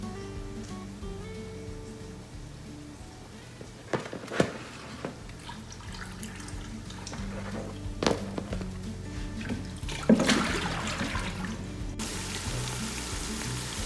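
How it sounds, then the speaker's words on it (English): Excess water drains from cooked rice during fried rice preparation, a steady liquid hiss and trickle with a few louder splashes and clatters, close by in a kitchen. "I'm just gonna go ahead and drain excess water"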